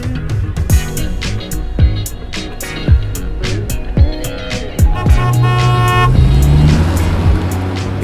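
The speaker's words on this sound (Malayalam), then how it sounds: "ഏതാടാ ഈ വണ്ടി? ബെൻസിന്റെ ഈ ക്ലാസ്സാ." A Mercedes-Benz E-Class car honks its horn amid busy road traffic, with short toots rising over a steady rumble of passing vehicles and no one talking.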